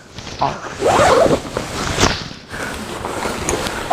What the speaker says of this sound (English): This bag opens up. This unzips